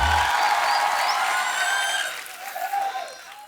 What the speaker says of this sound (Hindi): आप सबकी जोरदार तालियों के बीच इनवाइट करना चाहूंगा